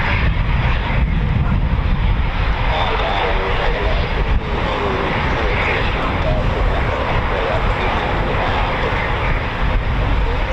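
A Eurofighter Typhoon FGR4 jet produces a loud, continuous engine roar that stays near and steady throughout, with a voice faintly beneath it.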